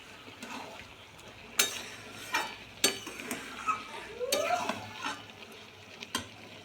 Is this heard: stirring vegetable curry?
yes